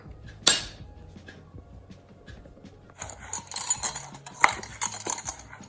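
Plain flour spooned by level tablespoon into a mug for an eggless chocolate mug cake, heard as a sharp clink of the spoon on the mug followed by soft scraping and rustling clatter, close and moderately quiet.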